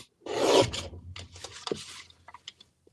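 Stamped paper craft piece trimmed by hand, a close, loud rasping cut followed by lighter rubbing and scraping, then a few soft taps trailing off, alone without talk.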